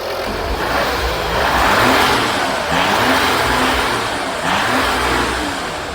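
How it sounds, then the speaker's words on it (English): An Audi Q7 with the 3.0L engine idles and is revved gently several times in a loud, close run, with swelling rises and falls in engine pitch over a steady mechanical whir. "I'm gonna rev up the engine a little bit."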